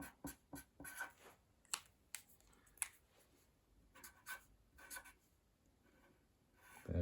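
Pen or pencil writing numbers on paper while working through a long division problem, a series of short scratchy strokes in uneven bursts, close and quiet, ending with a sharper knock.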